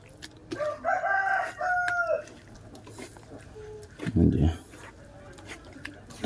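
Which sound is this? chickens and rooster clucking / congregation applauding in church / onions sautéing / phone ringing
chickens and rooster clucking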